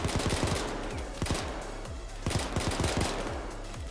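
Dense gunfire fills the Payday 2 Golden Grin Casino heist, with rapid overlapping shots in continuous bursts at steady loud volume, layered game combat with no talk over it.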